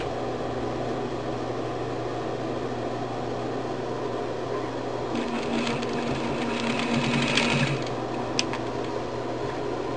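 Electric sewing machine stitching a phone holder strap in a quilting project: a continuous close mechanical hum with a steady needle rhythm, a brief change in tone partway through, and a single click near the end.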